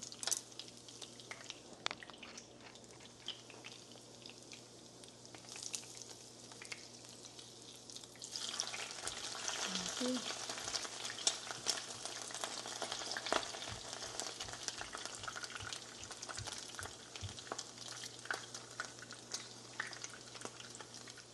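Okoy shrimp fritters frying in hot oil, a steady crackling sizzle that swells louder and denser partway through, with occasional stirring clicks and no talking.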